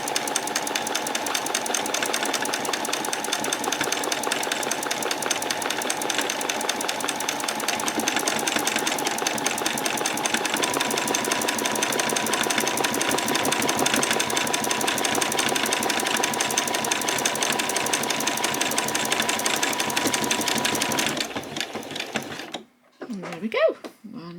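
A sewing machine stitches a buttonhole on a spring dress, running loud and steady with a rapid mechanical rhythm for about twenty seconds before stopping, followed by brief handling noise.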